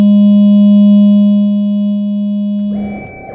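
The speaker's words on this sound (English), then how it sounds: "So here's the sine wave sweep." A loud, steady sine-wave tone with buzzing overtones holds, then breaks off into a splashy, metallic wash from an Erica Synths Black Spring reverb.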